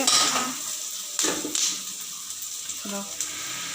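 Onions frying in a pan for potato bonda, a steady close sizzle with clinks of a utensil stirring against the pan, under brief bits of talk.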